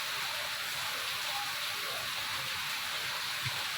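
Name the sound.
heavy rain falling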